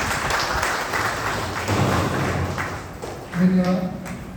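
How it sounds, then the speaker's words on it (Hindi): Applause from attendees at a hospital farewell ceremony for retiring female health workers, a short spell of scattered clapping under a speaking voice, with a louder thump near the end. "जोरदार तालियां हो जाए।"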